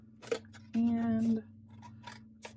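Scissors trim paper envelope flaps while assembling an upcycled envelope mini album: a few short snips and clicks near the mic, mixed with a brief tonal hum and some quiet talk.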